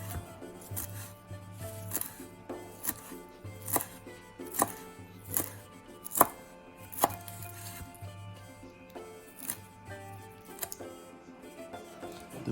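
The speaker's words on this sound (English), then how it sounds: "I have chervil, basil, bay leaf, rosemary, rue, and mint that I'm going to chop and add in as well." Fresh chervil, basil, rosemary, rue and mint being chopped with a knife on a board for a pork pie, a run of crisp close knocks in an uneven rhythm, quiet and without talk.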